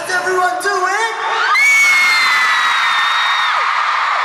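A One Direction concert crowd in Washington D.C. erupts into high-pitched cheering and screaming from many young fans, swelling after a brief voice and holding loud and sustained.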